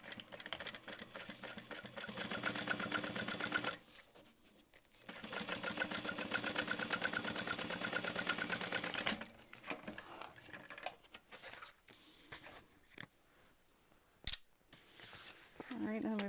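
A sewing machine top-stitches a seam on accent vinyl for a crossbody bag, running in steady continuous bursts that pause, then resume more briefly and unevenly.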